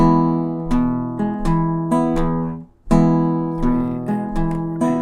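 A guitar plays a fingerpicking pattern in swung eighth notes, with bright plucked notes and paired double stops. The phrase repeats after a short pause, loud and close, with no voices.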